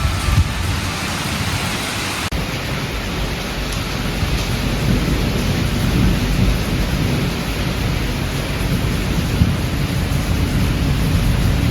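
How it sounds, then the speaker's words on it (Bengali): Steady heavy rain pours during a thunderstorm at Netarhat, with deep rumbling thunder woven through a dense, continuous wash of downpour noise. "ঝড় বৃষ্টি থেমে যাওয়ার পর একদম নিস্তব্ধ।"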